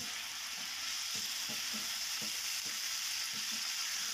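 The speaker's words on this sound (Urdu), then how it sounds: "تقریباً 4 سے 5 منٹ تک اس کو ہائی فلیم پر ہی سوٹے کرنا ہے." Chicken sautéing on high flame for stuffed capsicum, a loud continuous hiss of frying with soft periodic stirring knocks underneath, close and steady throughout, no voices.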